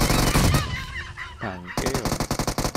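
Video game gunfire comes in rapid, loud automatic bursts, opening the clip and returning as a fast rattling string at the end. In between is a brief, honking, voice-like sound.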